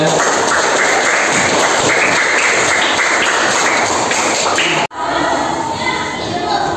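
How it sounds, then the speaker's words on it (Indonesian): Close, dense clapping from a group of people fills a classroom, then cuts off abruptly and resumes more faintly with a murmur of voices. "Tepuk tangan dong untuk refleksinya"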